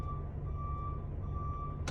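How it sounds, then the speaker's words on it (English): A moving truck over 20 feet long sounds its reverse warning, a steady, piercing electronic tone with a brief gap, heard alone over a low engine rumble. "When you put it in reverse, you'll hear that it makes a god-awful noise."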